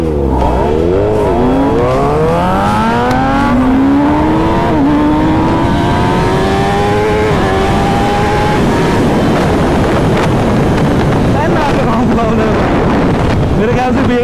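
Kawasaki ZX-10R and Z-1000 motorcycles sprint in a drag race, engines revving up loudly in rising sweeps through several gear changes, close to the microphone and heavily buffeted by wind.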